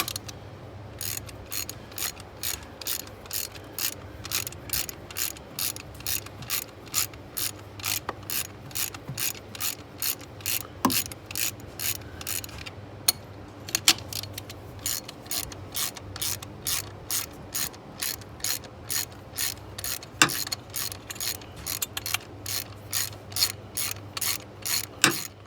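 A socket ratchet with a deep 14 mm socket loosens the two fuel rail bolts on a Dodge Challenger engine, giving rapid, steady clicking pawl strokes close up in repeated bursts with short pauses, no talking.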